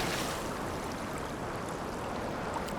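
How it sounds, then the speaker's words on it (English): A game character runs across water, giving a continuous broad splashing, rushing wash that stays steady and fairly soft throughout with no talking. "The wall running on the water."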